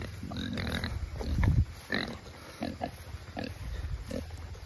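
Pigs on a farm grunting and snorting close by in uneven bursts, with some shuffling movement between the calls.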